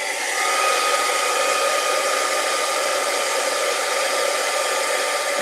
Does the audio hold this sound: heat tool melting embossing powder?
yes